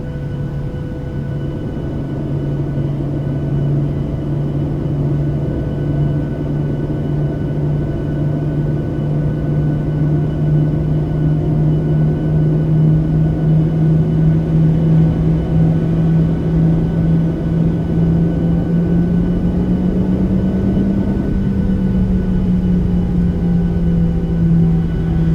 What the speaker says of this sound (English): And we can spool her up, and we're going to start taxiing all the way to 22 left.